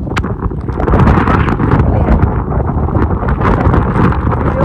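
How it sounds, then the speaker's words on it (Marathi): Strong wind roars across the microphone at a jungle waterfall, a loud, continuous rumbling buffet with gusty swells and faint rushing water beneath. "एवढ्या हवेमध्ये कसं जाणार आहे काय माहिती"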